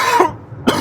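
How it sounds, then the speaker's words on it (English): Two short, sharp coughs close up, separated by a brief pause of silence. "I'm not sure why I started coughing."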